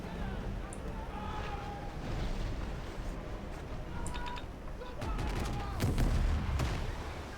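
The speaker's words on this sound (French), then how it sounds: "faut que je tire vraiment en haut sur la tour" Cannons fire in the naval video game World of Sea Battle, scattered distant booms and a cluster of sharper blasts near the end, under someone speaking French.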